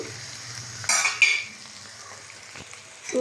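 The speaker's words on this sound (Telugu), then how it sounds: "హై ఫ్లేమ్లో నేను ఇప్పుడు ఇది తిప్పుతూనే ఉన్నాను" Bitter gourd curry frying on high flame with curry leaves and spice powder, a low sizzle with a couple of sharp utensil scrapes against the pan as it is stirred.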